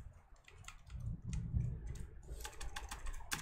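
Keys on a Lenovo ThinkPad T460s laptop keyboard with suspected liquid damage are pressed in a run of close, quick clicks that bunch into a faster burst near the end.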